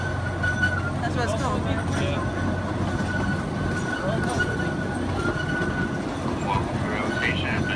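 A small park train on the Bonfante Railroad at Gilroy Gardens rumbles along with a low steady drone and clattering wheels, while riders talk casually over the ride.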